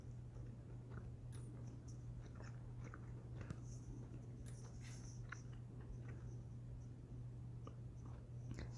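Someone chewing gum with the mouth close to the microphone, a faint run of small wet clicks and crunchy bites scattered irregularly over a low steady hum, with no talking.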